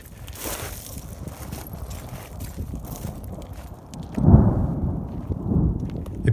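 A low rumble of thunder rolls in over wind and outdoor noise, swelling near the end and then fading into a long, heavy grumble.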